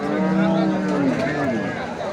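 A Sahiwal cow lets out a long, low moo close by, steady and loud, with faint voices mixed in behind it.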